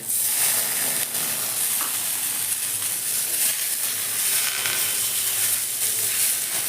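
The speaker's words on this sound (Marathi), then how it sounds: "आता लसूण आणि शेंगदाणे छान भाजलेले आहेत टमाटर घालायचे" Tomatoes hit a hot pan of roasted garlic and peanuts, producing a loud, dense, continuous sizzle and hiss throughout, close up and without talking.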